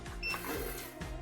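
Cash counting machine running a short burst of banknotes through its feeder, a fast whirring riffle lasting about a second, close and fairly loud with no voices.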